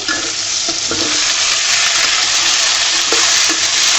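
Tomatoes fry in hot oil in a pan, giving a loud, steady sizzle that runs the whole time, with a few soft stirring knocks and scrapes.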